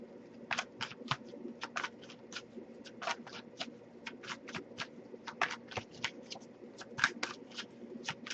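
Repeated crisp riffling bursts of tarot cards being shuffled, irregular in rhythm and close by, over a quiet background with soft cooing in the distance.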